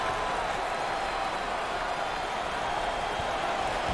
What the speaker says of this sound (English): The crowd appreciates their effort.